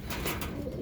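Racing pigeons in their loft give soft, low cooing calls that swell and fade in a few quiet pulses, with no voices present.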